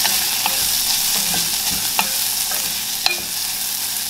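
Onions fry in a pan for ketchup with a steady, close sizzle, and a utensil stirs and taps them now and then with a few sharp clicks.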